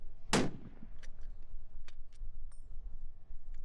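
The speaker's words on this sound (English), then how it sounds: "Long time for that bullet to arrive. And there it is, folks." A long-range rifle shot at a two-mile shooting competition: a sharp, loud crack up front followed by a few faint, distant impacts and ticks against a steady outdoor wind rumble.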